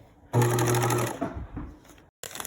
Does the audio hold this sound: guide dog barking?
no